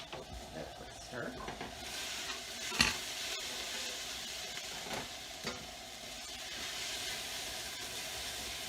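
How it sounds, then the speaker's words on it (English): Onions and garlic sizzle steadily in a hot pan, with a quick stir scraping through the frying partway in and a soft hiss continuing throughout. "That quick stir."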